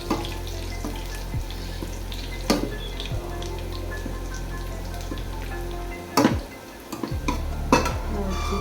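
Garlic and ginger fry in a pan with a steady sizzle while a spoon stirs and scrapes, throwing up occasional sharp clinks, then a short break before the frying returns.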